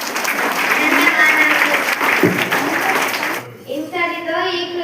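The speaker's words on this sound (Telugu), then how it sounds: "అందరూ కలిసి చప్పట్లు కొట్టండి." A class of schoolchildren clapping together, a dense burst of applause that fills the first few seconds and then cuts off, followed by a voice speaking.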